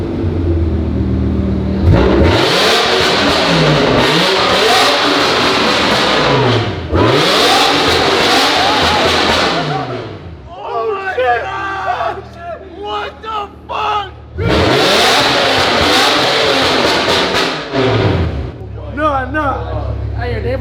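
Loud bursts of a tuned car with a titanium exhaust revving hard, three long roaring pulls with idle and excited voices talking and whooping between them.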